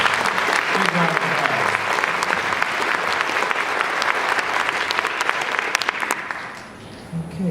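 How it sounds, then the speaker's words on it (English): Sustained audience applause at a college convocation, many hands clapping steadily and fairly loudly for several seconds before thinning out and fading near the end, with some crowd murmur underneath. "Let's give them a big round of applause"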